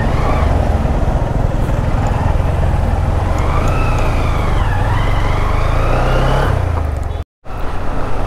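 Honda motorcycle engine while riding past a long traffic jam on the road to Kaptai, a steady close drone with wind and a faint siren-like whine in the traffic, ending in a brief dropout.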